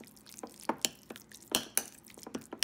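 Spoon stirring a thick minced pork mixture in a bowl, with soft scrapes and sharp clinks against the sides at an irregular pace.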